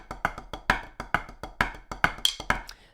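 Crossover taps played on a single drum as a practice drum-chops pattern: a quick, steady run of crisp strokes, about three per second and some louder than others, close and dry with no talking.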